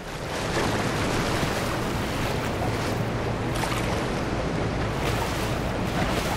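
Loud steady roar of a waterfall in the Lego Fortnite video game, a constant broadband rush heard up close with no voices.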